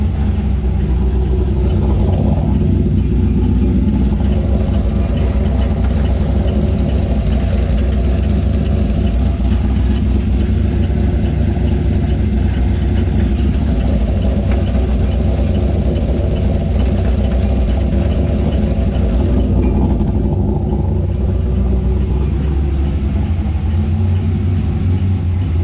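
Corvette drift car up on a lift, running in gear with its loud exhaust droning steadily and close, a deep continuous engine rumble throughout with no talking.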